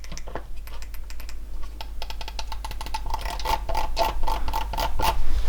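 Rapid clicks from a Razer Naga Trinity gaming mouse, crisp and close, sounding like a busy run of keypresses and growing a little louder toward the end.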